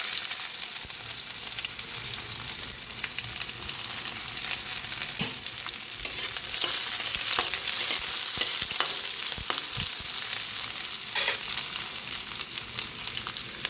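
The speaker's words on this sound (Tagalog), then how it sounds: "Magigisa na po tayo. Bawang." Garlic and ginger sauté in a hot pan with a steady, loud sizzle, broken by occasional stirring clicks and scrapes; no one talks.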